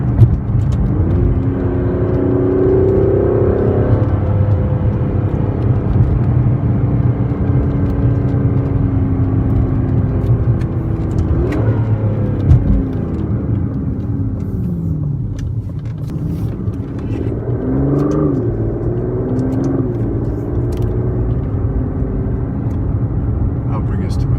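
A 2017 Aston Martin DB11 Launch Edition cruises through a slow U-turn, its engine a steady low drone inside the cabin with gentle rises in pitch as it turns and pulls away, under someone talking throughout.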